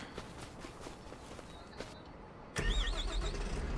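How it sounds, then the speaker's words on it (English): A tractor engine starts up in Farming Simulator 25 with an abrupt, loud mechanical roar that keeps running steadily near the listener, following quieter footsteps and ambient game noise. "We're going to start this tractor, because remember, we've got to let them warm up."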